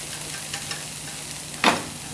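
Cucumber stir-fried in a pan for bibimguksu, a constant soft sizzle with a few light spatula taps and one louder scrape near the end, no talking.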